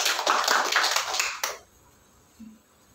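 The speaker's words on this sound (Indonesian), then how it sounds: "Tepuk tangan bagi Tuhan kita." A church congregation claps together at a Sunday service for about a second and a half, a dense burst of hand claps that cuts off sharply and leaves near silence.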